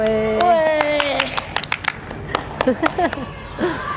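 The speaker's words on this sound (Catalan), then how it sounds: "Un aplaudiment." A small group of children claps in scattered, uneven bursts after a balloon inflates from baking soda and vinegar in a school experiment, with a voice speaking over the start and sharp individual claps close by.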